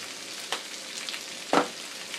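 Seasoned potatoes fry in a pan with a soft, steady sizzle, broken by two brief louder scraping stirs, one early and one stronger near the end.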